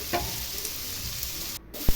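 Vegetables frying in a pan with salt just added, a steady close sizzle with a few brief stirring scrapes and a sharp knock near the end.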